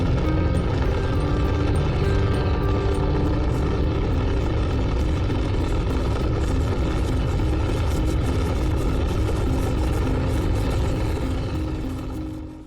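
Rocket launch sound effect for the liftoff of the space dog Laika, a loud, dense rumbling roar that fills the whole stretch and fades slightly at the end.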